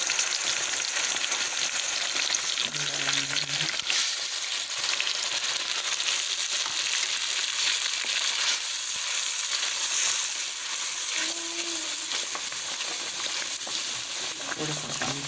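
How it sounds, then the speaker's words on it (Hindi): Onions and spices frying in a pan while making a turnip paratha, with water added to the mix, give a steady, loud hiss and sizzle that runs the whole time. Brief faint tones or clinks sound now and then. "थोड़ा सा इसमें पानी शामिल करेंगे।"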